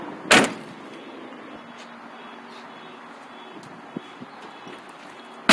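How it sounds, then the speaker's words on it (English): A pickup truck door shuts with one sharp, close thud, followed by quiet cab noise and a couple of faint knocks, then another clunk at the end. "Get these doors closed up here."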